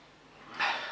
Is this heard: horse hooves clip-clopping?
no